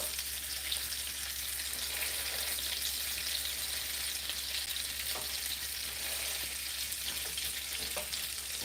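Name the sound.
turkey burgers frying in a pan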